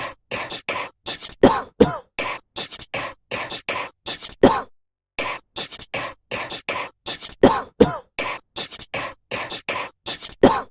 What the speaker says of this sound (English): we're getting coughing. Coughing as a beat is insane